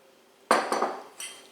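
Shredded cheddar cheese is stirred in a bowl with a utensil for a tomato pie, giving three sharp clinking scrapes spaced apart in a quiet room.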